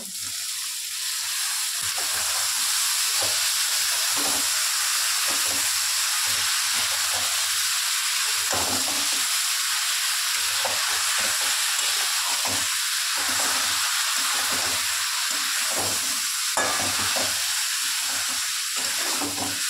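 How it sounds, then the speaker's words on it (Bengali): Boiled taro stems and potatoes fry in oil with cooked-down spice paste, making a loud, continuous close-up sizzle and hiss broken by regular scraping stirs. "এতেই আমি এইভাবেই মানে পুরো ভাজা ভাজা করব সুন্দর করে"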